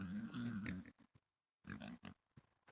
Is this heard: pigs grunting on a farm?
yes